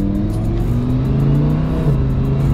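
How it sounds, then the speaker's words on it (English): Lamborghini Huracan V10 engine accelerating on the road in automatic mode, a close, loud, steady growl whose pitch climbs gradually as the revs build. "You can really hear that V10 behind you already, not even getting into it."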